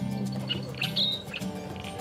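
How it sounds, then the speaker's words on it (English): A reed warbler calls from riverside planting, a few short squawking and chirping notes close by over a steady low background hum. "That's the reed warbler."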